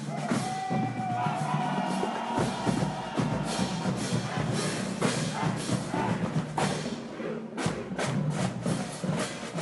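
A crowd lining a Christmas parade route cheers and yells in a dense, steady wash of noise, with an occasional thump mixed in.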